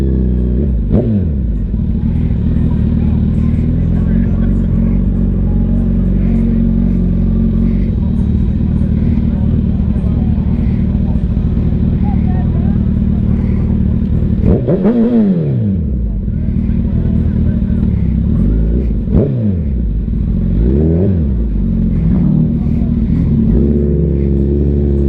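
A lowered car's engine revving nearby, a continuous loud mid-range drone with several rising and falling rev sweeps in the middle and near the end, with people talking over it.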